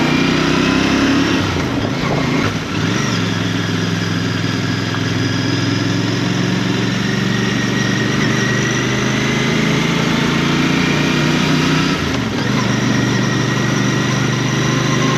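A Royal Enfield Bear motorcycle engine runs on a test ride in a steady, loud low drone with a rumbling thrum. Two brief dips and swells in engine tone sound like gear changes, and wind noise rides over the top.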